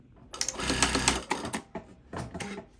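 A Juki DDL-8000A industrial lockstitch sewing machine stitching bar tacks, giving short close whirring bursts of rapid stitching separated by brief pauses, with the automatic thread cutter engaging.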